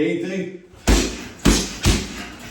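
A fast kickboxing combination of punches landing on a pad or bag, three sharp heavy thuds in quick succession following a brief stretch of someone talking.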